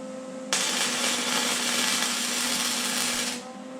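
A welder works on a cafe racer seat hoop, producing a steady, loud hissing crackle for about three seconds over a low constant hum, then cutting off.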